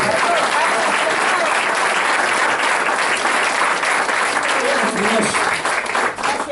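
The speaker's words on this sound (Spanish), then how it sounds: "Dale un aplauso de gloria al Señor" A church congregation claps in praise during a Spanish-language sermon, steady dense applause from many hands, loud and continuous, with a few voices mixed in beneath the clapping.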